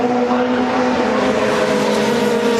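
Touring race cars at WTCC Oschersleben, including a BMW, scream through a chicane, with loud, sustained engine drones layered together, close and steady throughout.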